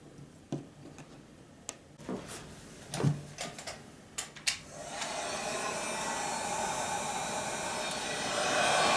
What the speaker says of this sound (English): and now I can just shrink that with the heat gun.